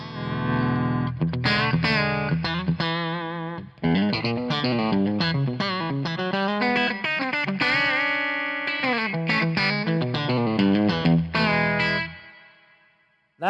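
Electric guitar played through a Fat Jimmy Jefferson 100 amplifier with bright switch, volume, treble and bass controls, plus a reverb pedal, ringing out loud, distorted chords and melodic lines with a washy reverb tail that fades at the end.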